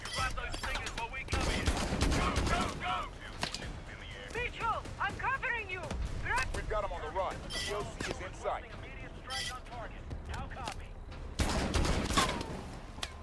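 Dense, rapid gunfire and machine-gun bursts in Call of Duty: Advanced Warfare, loud and continuous with a heavy barrage near the end, while voices talk underneath the shooting.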